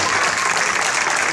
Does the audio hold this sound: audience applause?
yes